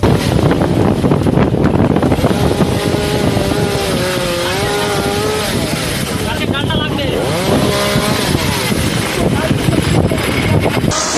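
Cyclone winds gusting up to 135 km/h roar as a loud, continuous rushing blast of wind buffeting the microphone, with a voice speaking over the storm.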